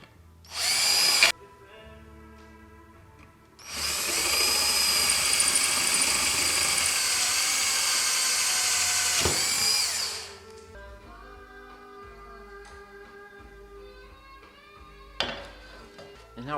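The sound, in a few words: drilling holes with number 11 drill bit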